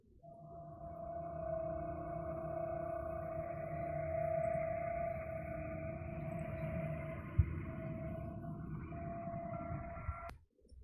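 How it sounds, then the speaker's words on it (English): Radio emissions from Io, a moon of Jupiter, rendered as sound form a faint, wavering whooshing drone with sustained whistling tones that swell and shift like wind, ending with a sharp click. "that one sounds a little bit like a windy day"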